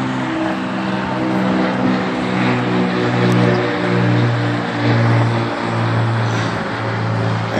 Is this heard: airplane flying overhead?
yes